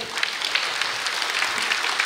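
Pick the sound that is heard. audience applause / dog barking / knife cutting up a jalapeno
audience applause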